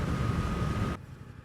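Suzuki GSX-8S motorcycle being ridden, a loud broadband roar of engine and wind rush that cuts off abruptly near the end, leaving a quieter rumble.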